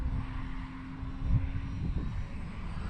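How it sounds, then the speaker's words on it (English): A stock HobbyZone Carbon Cub S2 radio-controlled plane flies with its electric prop motor giving a steady buzzing drone, moderately distant over outdoor wind noise, with slight shifts in pitch as it passes. "Stock prop motor, just the way she came, with the exception of the receiver"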